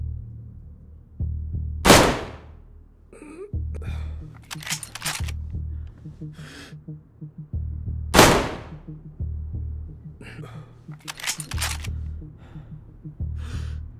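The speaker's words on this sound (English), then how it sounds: "I'm shooting at the guy up in the tower." Gunshots in the DayZ survival game: two sharp, loud cracks several seconds apart, each followed by quieter distant shots and echoes over a steady low rumble, with no talking.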